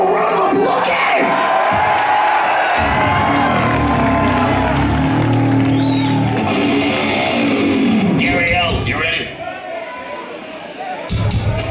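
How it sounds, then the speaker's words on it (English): Concert crowd at a thrash metal show in a New York club cheering, whooping and applauding loudly and steadily for nearly twelve seconds, dipping briefly near the end as voices call out. "give him a round of applause"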